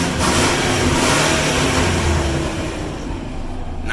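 A Ford Explorer 5.0 V8 engine with no exhaust fitted runs loud and close, rough and throaty, with a rev that swells and then eases off toward the end.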